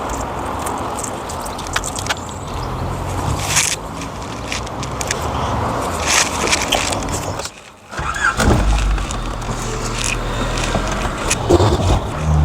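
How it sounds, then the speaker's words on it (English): A lowered Rover R8 car creeps up onto ramps with its engine rumbling and a brief cut in sound partway through, followed by low revving and scraping noises close by. "I went to drive this car on the ramps and it's too low down to start"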